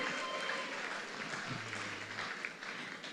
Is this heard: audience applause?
yes